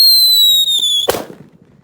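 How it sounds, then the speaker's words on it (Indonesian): A large Super Kaget firecracker, lit outdoors during Ramadan, goes off with a single sharp loud bang after a second of steady high hissing fuse, followed by a brief fading rumble. "Oke, kita nyalakan ini super kaget terbesar guys."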